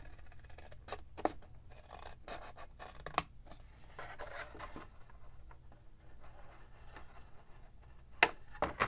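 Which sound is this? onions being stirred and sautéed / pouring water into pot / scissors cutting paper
scissors cutting paper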